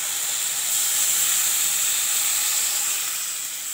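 Water poured into a hot pan of tomato and jujube (kul) chutney bursts into a loud, steady steam hiss and sizzle that holds evenly for several seconds before easing slightly.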